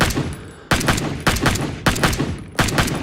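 Gunfire on a practice range in Rising Storm 2, five loud sharp shots spaced roughly evenly apart, each with a decaying echo tail, close and prominent.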